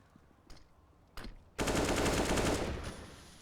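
CZ pistol fire in a Counter-Strike match, heard as a couple of faint distant shots and then a loud, rapid string of close shots that lasts about a second and a half.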